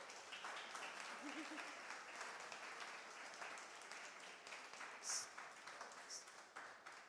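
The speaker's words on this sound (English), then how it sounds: "Give them a round of applause, everyone." Conference audience clapping for a panel of speakers at a People of Color psychedelic gathering, a soft, steady patter of many hands, fairly distant and quiet, with a brief brighter clap burst near the end.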